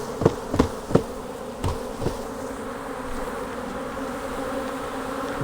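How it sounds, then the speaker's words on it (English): Swarm of honey bees buzzing loudly and continuously up close after being shaken off a hive frame in a beekeeping split, with a few sharp knocks of the frame near the start. "Let me get these bees off of here. So I'm just gently shaking it."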